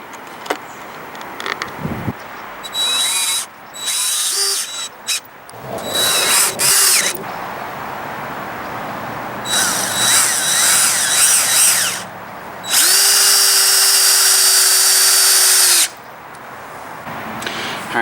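A power drill with a star bit drives screws to join the wooden boards of a raised vegetable garden bed: repeated close bursts of whirring motor, several short and one long sustained run, separated by quiet handling noises.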